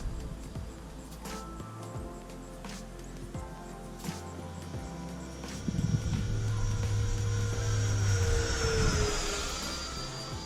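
FMS Yak-130 radio-controlled model jet flying overhead, a steady whining ducted-fan roar that swells louder and rises in pitch as it passes, heard outdoors over brief wind bumps.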